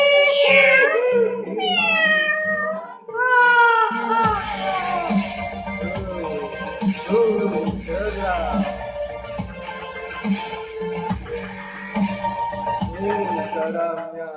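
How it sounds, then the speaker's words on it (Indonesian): A cat-meow ringtone: a string of drawn-out, wailing meows with rising and falling pitch, loud and close, soon joined by a steady droning musical backing. "Ringtone kucing setan."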